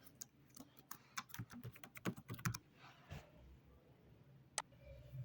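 Someone types an email address into a web form on a computer keyboard, giving a quick irregular run of close key clicks that thins into a few scattered taps.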